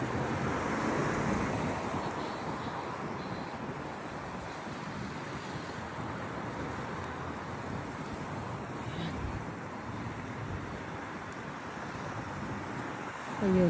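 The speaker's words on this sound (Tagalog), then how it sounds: "Ang lamig ng simoy ng hangin." Cold winter wind rushes and buffets outdoors in the UK, a constant broadband roar with a faint gust at the end, no voices.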